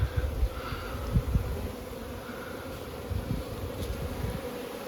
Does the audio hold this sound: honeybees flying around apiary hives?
yes